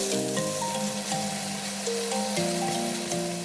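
Ground pork sizzles in vegetable oil over medium-high heat, a constant hissing fry that carries on beneath a melodic music track, with no speech.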